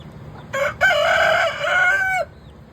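A rooster crows loudly and close by, a long drawn-out call with a brief break near the start, over a low background rumble.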